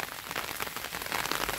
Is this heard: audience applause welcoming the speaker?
no